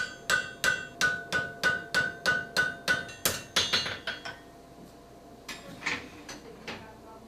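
A blacksmith hammers metal by hand in a traditional Swiss blacksmith shop, giving about a dozen sharp, ringing strikes in a steady rhythm, close and loud, then a pause before a few scattered, quieter blows.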